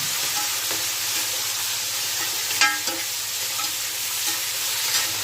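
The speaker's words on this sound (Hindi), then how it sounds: "हाई फ्लेम पे 5 मिनट में मटन को अच्छे से भून लूंगी" Mutton browning in a pan over high flame for Sindhi biryani gives a loud, continuous hiss and sizzle. A few sharp scrapes and clinks of stirring come through close up, with no voices.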